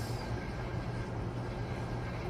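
A steady, heavy rumble of a J line subway train rolling past near Jamaica Center in Queens, New York, with a constant low drone and broadband rattle filling the whole stretch.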